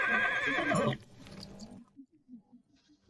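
A horse gives one loud, shrill whinny up close, then falls quiet except for a few soft snorts and low sounds.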